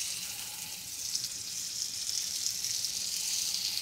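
Monkfish tail sears presentation side down in very hot olive oil, a bright, steady hiss of sizzling that swells slightly over a few seconds, close and continuous with no talk.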